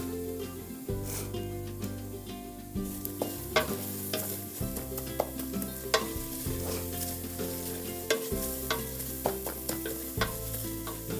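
Shallots sizzling steadily in a hot pan for a salad topping, with a continuous close-up fry broken by repeated scraping and stirring strokes and no talking.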